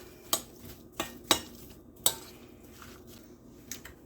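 Salt mixed into potato salad in a bowl: a few sharp clinks and scrapes of a utensil against the bowl at irregular intervals, close and fairly quiet, with no talking.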